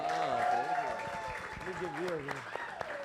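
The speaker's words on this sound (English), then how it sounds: "Let's give a round of applause for them." An audience applauds panel speakers at a brand-marketing talk with a soft, continuous patter of clapping, while a voice speaks over it.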